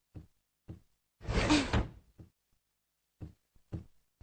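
A cartoon door slides shut with a broad whooshing rumble in the middle, framed by several short knocking thuds before and after, loud and close with no talk.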